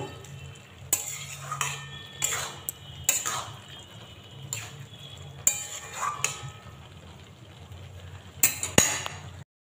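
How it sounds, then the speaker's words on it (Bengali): Chopped coriander is stirred into a pot of cabbage curry: repeated scraping and clinking of a spoon against the pot in irregular bursts over a low background hum, close by, with no talking. "এবার আমি একটু ধনেপাতা কুচি দিয়ে দেব। খুব ভালো করে মিশিয়ে দেব।"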